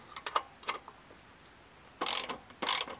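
A socket set ratchet tightens a nut while an electric bike is assembled, giving two quick bursts of close, rapid clicking near the end after a few scattered light ticks.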